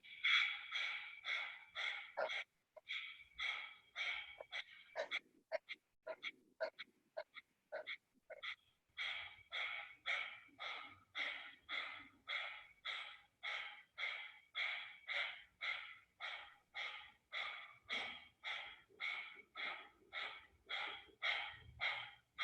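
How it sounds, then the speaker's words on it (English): Rhythmic breathing during a hatha yoga chakra practice: a run of quick, sharp nasal exhales, briefly faster and uneven, then settling into a steady fast pulse, close and clear with no talk. "Take a deep breath in."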